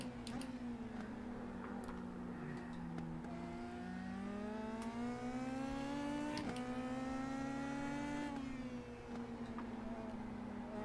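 Race car engine in the iRacing simulator, Indy Pro 2000 at Phillip Island, a faint steady whine that climbs through repeated upshifts with sharp gear-change breaks, no voices over it.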